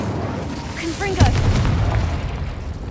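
A Confringo spell explosion in Hogwarts Legacy, a single booming burst after a few rising magical chirps, followed by a lingering rumbling tail, with spoken voices present.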